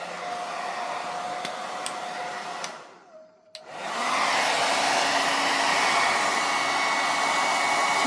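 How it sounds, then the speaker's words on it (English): A hair dryer blows steadily on wig bangs, cuts out briefly with a click, then restarts louder and keeps roaring close up without any talking. "I'm gonna use my dryer"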